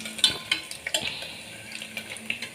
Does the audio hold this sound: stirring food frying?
yes